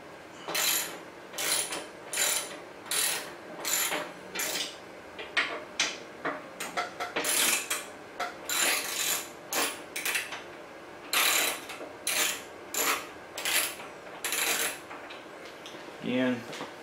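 A hand ratchet backs out two T40 Torx bolts from the Tour-Pak support on a Harley-Davidson touring motorcycle, giving repeated close, crisp bursts of clicking with short pauses between strokes.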